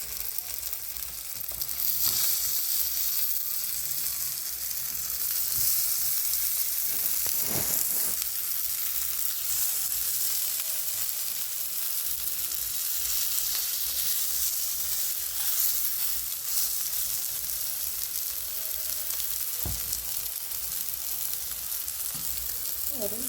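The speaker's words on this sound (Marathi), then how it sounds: "आणि ही टिक्की या पॅनवर अशी छान होऊ द्यायची आहे." Spinach tikki fry in a little oil in a pan, giving a continuous, close sizzle with bright crackles and a few sharp utensil scrapes and taps along the way.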